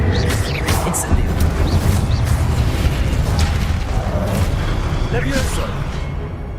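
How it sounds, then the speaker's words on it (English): Incendio fire spell cast in Hogwarts Legacy, a loud rumbling whoosh of flame amid dense battle effects, with a voice shouting over the blast. "Incendio!"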